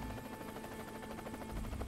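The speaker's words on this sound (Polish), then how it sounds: "Nie zamierzam wyjść z tego helikoptera." A helicopter in the video game Worms WMD produces a steady, continuous rotor drone with a buzzing texture, moderately loud and without talk.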